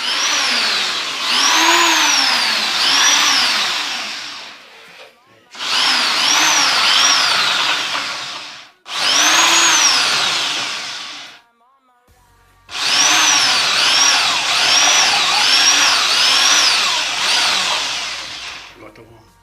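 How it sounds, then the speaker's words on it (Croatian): An electric drill whirs in four long bursts, its whine swelling and dipping as it grinds, with brief pauses between runs. "Uključite bušilicu i menjate papriku."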